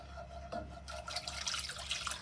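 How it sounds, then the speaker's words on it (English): Water pours into a pan for tamarind sauce, a soft splashing and trickling that grows busier midway, fairly quiet with no talk. "We're going to add our water."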